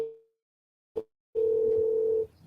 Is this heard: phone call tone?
yes